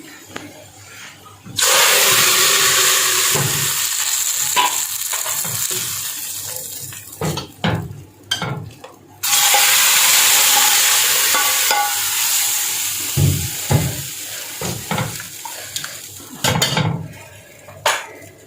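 Onion tarka frying for mixed lentil dal, heard as loud bursts of sizzling hiss broken by clanks of a spoon and pan, with stirring and running-water sounds in between.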